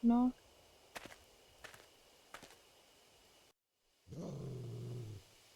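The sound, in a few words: loud growl in video game Spirit Hunter: Death Mark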